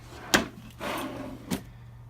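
Wooden drawer for chisels and slicks in a home woodworking shop sliding open or shut, two short sharp thuds with a softer rolling slide between them, close and fairly loud, no talking.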